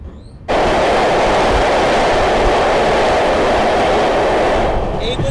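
The Sairang–Kolkata Express train crosses the Kurung bridge, number 144, on the hill line to Mizoram; a dense, loud, steady rumbling roar surges in after a brief quieter start and holds unbroken to the end.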